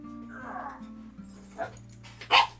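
A dog barking indoors, a couple of short, sharp yaps with a louder bark near the end, over a steady low hum and light background music.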